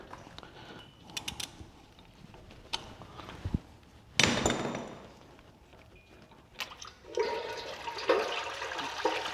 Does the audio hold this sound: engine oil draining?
yes